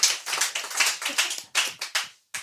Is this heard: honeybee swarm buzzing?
no